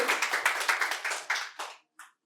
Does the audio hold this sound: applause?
yes